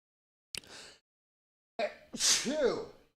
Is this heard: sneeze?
yes